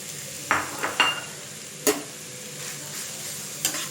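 Carrots frying in hot ghee for Odia-style gajar halwa, stirred with a few distinct scraping clacks of a utensil against the pan over a quiet, steady sizzle, with no talking.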